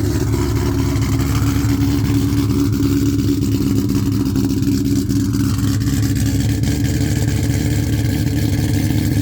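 A 2003 Ford Mustang Cobra V8 with aggressive cams idles loudly just after a cold start, a close, steady, lumpy low rumble with mechanical clatter, heard alone for the whole stretch.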